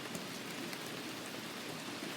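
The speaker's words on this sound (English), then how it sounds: "Oh god, there's the rain again." Steady rain falls during a small thunderstorm, a dense, even hiss of drops pattering on surfaces, continuous and fairly close, with no voices and no thunder.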